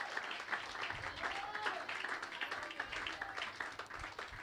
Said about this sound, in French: Dukoma amashyi ku bwa mwene data Dani.